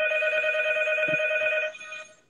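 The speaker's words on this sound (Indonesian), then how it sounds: "ini kayaknya lagi angkat telepon sebentar ya teman-teman ya" A telephone rings with a steady, bright electronic tone that holds for under two seconds, then cuts off abruptly as the call is answered.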